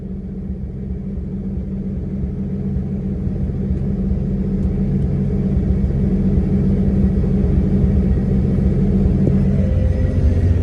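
A Nissan RB20DET engine in an R32 running on a dyno with water-methanol injection, a heavy, steady low rumble and drone that builds slightly in loudness and holds, close and continuous with no voices.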